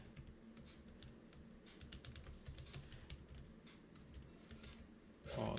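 Steady, quiet keystrokes clatter on a computer keyboard, a continuous run of light clicks at an even pace over a low background hum.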